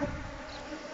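Honey bees buzz during a hive inspection, a faint continuous insect drone that stays low and steady for about a second.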